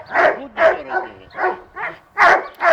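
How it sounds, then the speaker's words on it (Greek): Dogs on a farm bark excitedly, with six or seven sharp, loud barks and yelps in an uneven rhythm, close to the listener. "Τρελαθήκαν τα σκυλιά."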